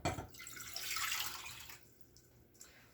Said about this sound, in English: let me just go ahead and pour all the water.